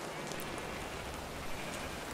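Rain in Minecraft makes a steady, even hiss of falling drops that fills the whole moment without pause, with no voices over it.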